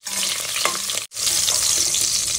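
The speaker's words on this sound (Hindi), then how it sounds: "तो तेल गर्म हो जाए तो सबसे पहले हम मिर्ची को फ्राई करेंगे," Chillies fry in hot oil inside a pressure cooker, giving a steady, loud, close sizzle and crackle that cuts out for a brief instant midway, then carries on just as strongly.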